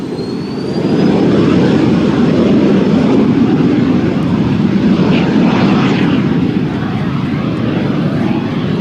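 A Cirrus Vision SF50 single-engine personal jet, its engine mounted on top, throttles up during a touch-and-go at the Oshkosh 2014 airshow. The engine roar is loud and steady, rising quickly and holding a broad, continuous rush.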